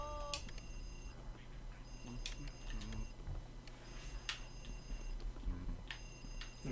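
A telephone ringing in the video game Luigi's Mansion, repeated electronic ring bursts at a steady interval that sound thin and moderately loud over a low hum.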